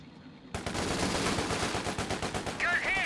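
A Vickers K machine gun mounted on a Universal Carrier fires in Company of Heroes 2, with a sudden dense stream of rapid shots that runs loud and continuous for about two and a half seconds.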